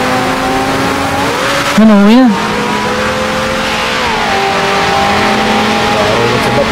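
A car driven in GTA 5 hums along with a steady engine drone, its pitch rising and wobbling through a short revving burst before it settles again. People talk over it.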